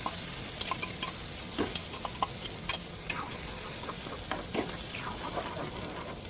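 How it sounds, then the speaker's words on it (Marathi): Ground spice masala frying in a pan, a constant soft sizzle and crackle with scattered pops and light stirring scrapes, moderately close. "तर आपण त्यामध्ये टाकत आहोत हा वाटलेला मसाला. तो पण मसाला मस्त आपण फ्राय करून घ्यायचा आहोत"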